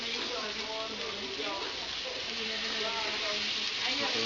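A New York striploin steak sears in a hot pan, a steady, continuous crackling hiss with quiet talk underneath.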